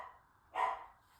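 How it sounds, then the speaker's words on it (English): A pet dog barking indoors at a cat outside, one short muffled bark heard faint and somewhat distant in a quiet room. "I'm sorry for my dog barking."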